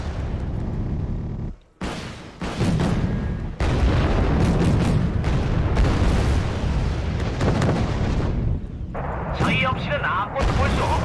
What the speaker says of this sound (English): ATGMs have hit that